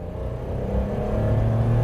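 A small Mitsubishi Colt engine hums and whirs at a steady mid pitch, rising slightly as it drives, close and fairly loud with no talking.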